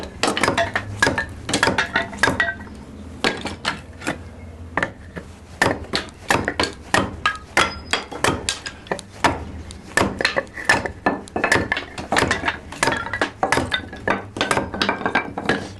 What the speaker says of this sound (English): Now this stuff, I'll split a couple pieces small